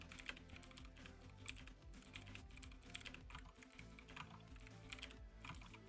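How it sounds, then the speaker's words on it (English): Aggressive, rapid typing on a computer keyboard, a dense nonstop clatter of keystrokes heard up close and fairly loud throughout. "Aggressive keyboard warrior sound."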